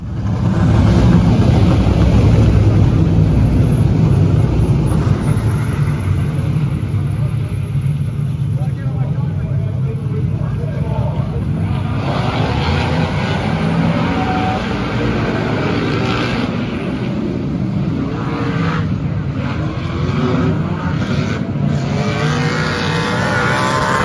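A race car engine roars steadily on a slick, muddy dirt track at Antioch Speedway, loud and continuous throughout, with a voice talking over it.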